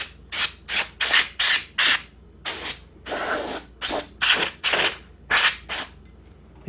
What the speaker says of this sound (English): I might want to spray this out from the inside out of the projector